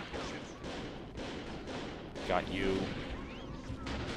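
Gunfire rumbles in scattered, muffled bursts during a firefight in the video game Second Sight, heard under a voice in a fairly quiet, distant mix.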